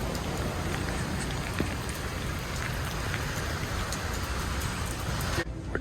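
Heavy rain pours down outdoors on a street on the Gulf Coast in Ocean Springs, Mississippi, a steady, dense hiss of drops hitting surfaces that holds without pause, then briefly cuts off near the end.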